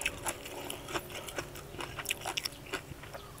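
Crisp vegetables crunched in the mouth while eating a red ant egg curry with wild sweet leaf, a close series of sharp, irregular bites and chews, quiet and without speech.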